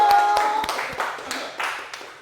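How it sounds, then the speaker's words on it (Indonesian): A classroom of students claps for a classmate after her Quran recitation, a brief burst of scattered hand claps close by that tapers off over about two seconds. "beri tepuk tangan kepada Mbak Nurul"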